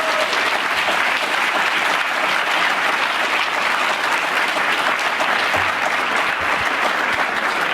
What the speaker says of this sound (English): I'd like a round of applause for the wonderful teachers at Strongsville High School